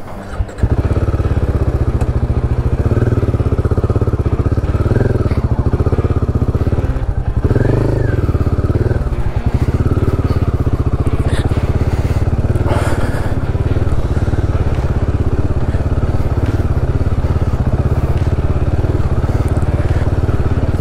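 A new Royal Enfield Himalayan 450 in Kaza Brown, carrying about 20 kg of luggage, rumbles loudly and continuously on a trail between Jibhi and Kasol, its engine drone steady with occasional clatter and wind.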